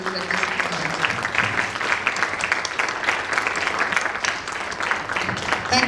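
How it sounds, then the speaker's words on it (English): An audience bursts into applause at a cultural event, dense, steady clapping from many hands sustained for several seconds with a faint murmur of voices underneath. "let's give them a big round of applause to celebrate this."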